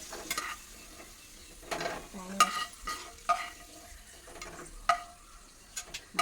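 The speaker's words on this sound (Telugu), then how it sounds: "వేగిపోయి తీసేస్తాం" Ingredients for sago vermicelli payasam fry in a pan, with intermittent scraping stirs and sharp metal clinks over a faint, soft sizzle nearby.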